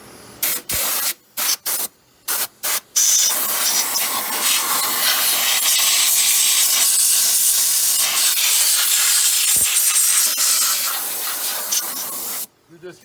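Compressed air blasts dirt and grime off the top of a Ford three-valve engine's valve cover: several short bursts, then one long, loud, steady hiss that cuts off near the end.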